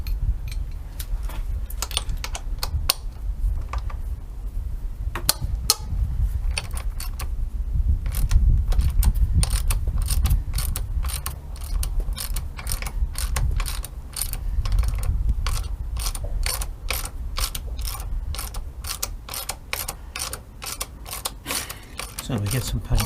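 A ratchet wrench with a 12mm socket works on a corroded brake caliper of a KTM Duke 125 motorcycle, giving long runs of rapid, close clicking in bursts, with a few heavier clunks and some talk mixed in.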